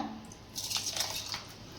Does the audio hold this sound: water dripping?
yes